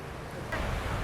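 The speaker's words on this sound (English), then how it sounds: "It's quite a windy day" Steady wind at Dongtan Beach, Jomtien, Pattaya rushes and buffets the microphone, a constant low roar with a gust in the middle.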